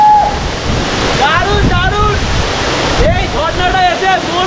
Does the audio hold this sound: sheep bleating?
no